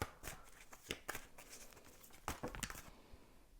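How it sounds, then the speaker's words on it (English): Tarot cards shuffled by hand in quick, soft riffling bursts with pauses between, close and fairly quiet, with no talking. "I'm going to shuffle a little bit more"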